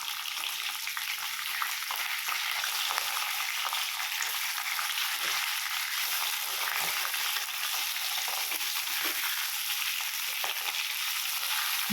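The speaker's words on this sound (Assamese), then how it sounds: "এইবাৰ মই মাছৰ মূৰকেইডোখৰ ভালদৰে ভাজি ল'ম" Large bhakua fish heads fry in mustard oil in a wok, a dense, continuous close-up sizzle and hiss holding steady throughout with faint crackles and occasional stirring, no voices.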